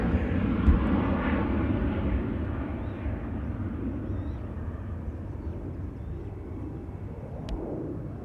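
An Emirates SkyCargo cargo plane passes at Amsterdam Schiphol Airport, a steady, broad engine roar that stays fairly loud throughout and fades slightly toward the end, with no talk.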